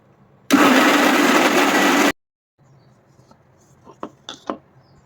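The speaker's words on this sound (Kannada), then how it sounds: "ಇದಿಷ್ಟನ್ನು ಮಿಕ್ಸಿ ಮಾಡ್ಕೋಬೇಕು" A mixer grinder grinds cumin, coriander and garlic in a loud, steady whir that lasts about a second and a half, then stops abruptly. A few quiet clicks and clinks follow.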